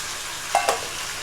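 Gravy stirred into a hot pan for chicken biryani gives a soft, steady sizzle, broken by two quick, close spoon scrapes in a row, with no voices.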